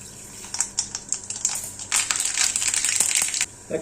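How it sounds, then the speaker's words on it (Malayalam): Mustard seeds crackle and pop in hot oil, a dense run of sharp, irregular snaps close by, growing busier midway before tapering off. "അതിലേക്ക് അല്പം കടുക് കൊണ്ടിട്ട് പൊട്ടിക്കും"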